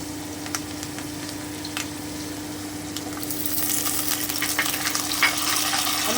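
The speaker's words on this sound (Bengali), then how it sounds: "আমি এবার আলুটাকে একটু হালকা করে ভেজে নিচ্ছি" Potatoes sizzle steadily in a hot pan, with occasional crackles and pops, the frying growing slightly louder and busier toward the end.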